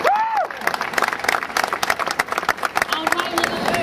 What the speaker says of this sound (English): Give Dick Gregory a round of applause.